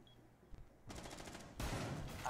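Rapid bursts of gunfire in the Rainbow Six video game, starting moderately and growing louder and denser into sustained automatic fire toward the end, with no talking.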